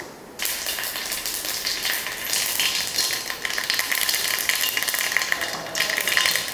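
Half a spoon of mustard seeds splutter in hot oil: a dense, loud crackle and pop that starts abruptly and keeps going without a break.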